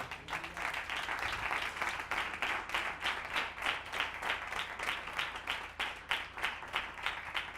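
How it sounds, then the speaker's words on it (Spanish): A church congregation claps in a steady, rhythmic beat at moderate distance, the hand claps repeating evenly and continuously with no talking over them. "Dale un aplauso al Señor."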